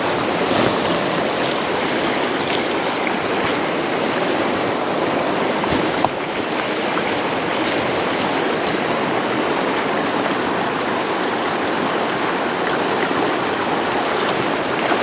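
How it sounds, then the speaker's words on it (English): Fast-flowing water of the Cowlitz River rushes in a steady, loud, broadband roar that holds unbroken throughout, close by and with no voices over it. "This fast water right in here is generally where I pick up"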